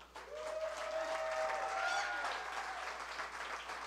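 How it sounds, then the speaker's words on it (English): A radio show audience applauds Notre Dame Fighting Irish head coach Brian Kelly, a steady wash of clapping at moderate distance with a faint voice and murmur woven through it. "And that applause, for those of you listening on the radio, is for the head coach of the Fighting Irish, Brian Kelly."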